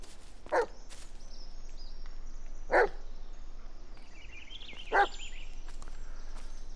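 A dog in the Blair Witch video game barks three separate times, each a single sharp bark spaced about two seconds apart, over a steady low ambient hum with faint high chirps.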